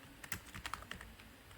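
Quiet, quick keystrokes on a computer keyboard as someone types code for a Rust calculator app, an irregular run of soft clicks close to the microphone with no talking.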